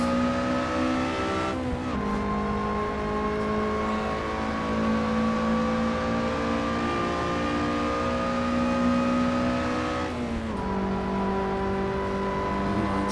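A Lotus Elise SC engine revs hard at Mount Panorama in a VR racing sim, a loud continuous drone with two sharp gear-shift dips and rising pitch between them.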